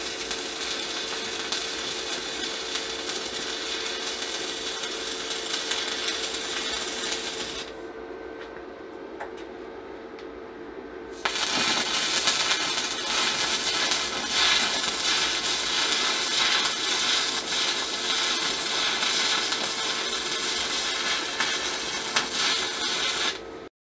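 Welding two clamped steel sides of a shaper attachment held in a vise, a steady loud crackling hiss that runs continuously, drops out briefly for a few seconds, then resumes just as strong, with no talk.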